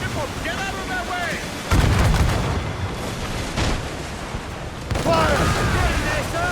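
Ship cannons fire in an Assassin's Creed Rogue naval battle, a loud heavy volley rumbling through the middle, surrounded by combat din and shouted crew voices.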